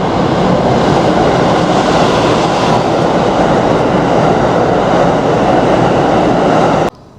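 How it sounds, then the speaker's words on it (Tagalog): Train at a station in Japan on a cold day, a loud continuous rumble and rushing roar that holds steady throughout before cutting off abruptly at the end, with no talking. "At pasok na tayo sa loob para makasakay na tayo ng train."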